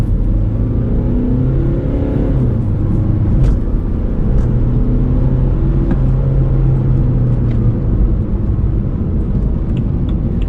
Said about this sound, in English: Let's now do a quick acceleration test from 0 to 100